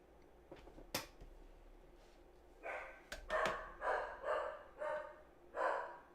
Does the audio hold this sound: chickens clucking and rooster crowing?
no